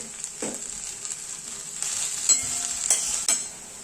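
Fenugreek leaves steaming with a little salt in a pan for dhaba-style matar paneer malai methi, giving a steady soft sizzle and hiss with a few stirring scrapes and clinks, heard close and alone.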